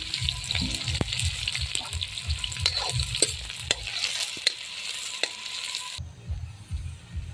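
Green chillies and onion hit hot oil in a pan and sizzle steadily, with clinking stirring taps over the frying; the sizzle cuts out near the end, leaving a low rumble.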